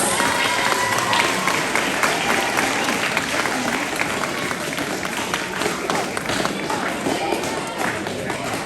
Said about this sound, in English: one more round of applause as they go back to their seats